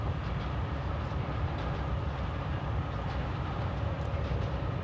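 A train arriving in the video game Forgotton Anne: a steady, dense rumble of rolling wheels and machinery, loud and continuous throughout, with no voices.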